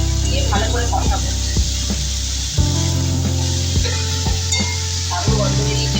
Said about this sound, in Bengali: দিয়ে ভালো করে কষাবো।